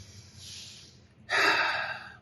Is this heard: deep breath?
yes